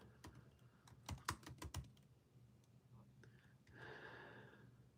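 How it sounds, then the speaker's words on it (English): Fingers type on a computer keyboard during an ice fishing livestream: a quick, close burst of clattering keystrokes, then a pause, soft breathing and a long sigh. "I'm typing away"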